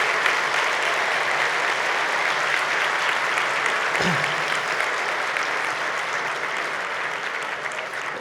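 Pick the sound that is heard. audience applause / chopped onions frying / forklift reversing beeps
audience applause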